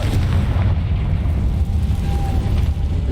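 Confringo blasting spell explosion in the Hogwarts Legacy video game: a loud, sustained low rumbling blast that rolls on for several seconds with no voices over it.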